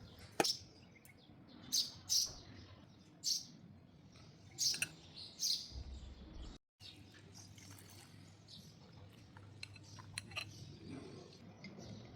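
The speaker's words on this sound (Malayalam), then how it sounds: "ബാൽക്കണിക്ക് ഇരുന്ന് കിളി വല്ലാണ്ട് കുറുകുന്നുണ്ടായിരുന്നു കേട്ടോ" A bird on a balcony calls in short, bright chirps that come in separate bursts, fairly faint against a soft room background.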